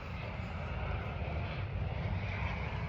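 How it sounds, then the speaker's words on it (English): A Southwest passenger airplane flies low near the airport, its engines producing a steady, loud broadband roar that holds constant throughout without any talk. "I can see the Southwest plane."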